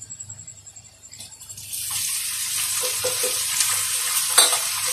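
Chopped tomatoes tipped into a hot pan with onions, where a quiet background suddenly gives way to a loud, steady sizzle, punctuated by a few close stirring scrapes and spatters.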